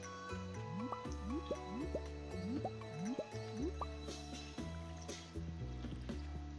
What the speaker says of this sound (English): as I'm watering these plants, you can see my energy meter running down